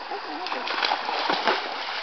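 Water splashing as a person falls into a river, a brief churning splash with people talking over it.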